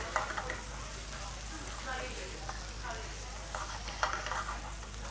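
Onions and curry leaves frying in a pan give a steady, dense sizzle throughout, with occasional crackles and stirring clatter at moderate level.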